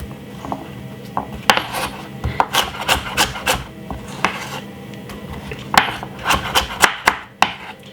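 A knife dices a peeled medium-sized carrot on a board, giving a steady run of sharp, close chopping knocks in uneven bursts, loud and without any talking.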